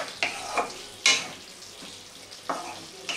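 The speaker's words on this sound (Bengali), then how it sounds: "ভালো করে মিশিয়ে নিয়ে" Elephant foot yam curry being stirred in a pan after garam masala is added, with soft sizzling and several distinct scraping stir strokes spaced irregularly, close and fairly quiet, no talking.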